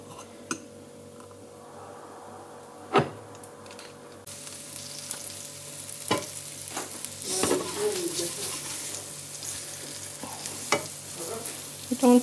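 Pork chops sizzle in a pan for Hong Kong style baked tomato pork chop rice, a steady crackle that grows louder midway, with occasional sharp clicks and knocks of utensils.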